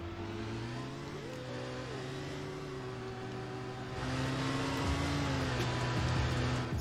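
A BMW M3 GTR in Roblox Car Crushers 2 drives with a steady engine hum whose pitch climbs and shifts with gear changes, growing louder and rougher as it accelerates toward the end.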